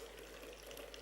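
A Black Beauty cocktail poured from a cocktail shaker with a built-in strainer, a steady soft trickle of liquid lasting about a second, faint and close, with no talking.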